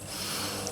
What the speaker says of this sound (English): I'm sniffing because it smells so daggone good.